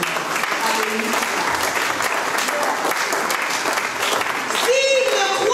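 A church congregation claps and cheers together in a steady, dense roar of applause that holds for several seconds, with a voice briefly rising over it near the end.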